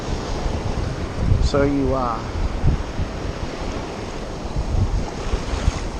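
Steady wind gusts roar across the microphone beside water during fly casting, a constant rushing noise filling the whole stretch with a brief spoken phrase near the start.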